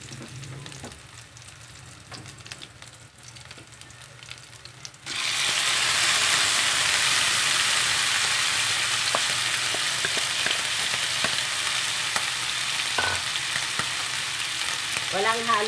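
Sautéed corned beef with pepper hits a hot pan after a few quiet seconds, breaking into a loud, steady sizzle with occasional scrapes and clicks of stirring.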